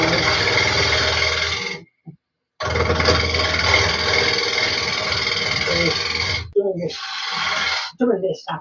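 Carbide tool cutting a monkey puzzle wood bowl spinning on a lathe, a loud, steady broadband scraping roar in long passes that break off briefly between cuts.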